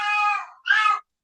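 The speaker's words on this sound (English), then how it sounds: "That's my cat." A pet cat meows twice, a drawn-out first call followed by a shorter, rougher second one, close and clear with no talking.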